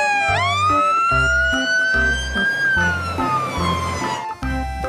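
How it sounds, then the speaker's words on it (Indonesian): A toy fire truck siren wails loud and close, with a rising electronic tone and a repeating pulsing pattern, then drops away near the end. "di sini ada mobil pemadam kebakaran ya teman-teman"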